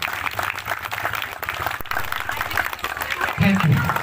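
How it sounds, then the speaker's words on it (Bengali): A crowd at a Kartik Puja inauguration applauds for martyred soldiers, scattered clapping running steadily under a background voice and crowd hum, with a low tonal sound rising near the end. "সকলে মিলে একটা জোরদার হাততালি হয়ে যায়।"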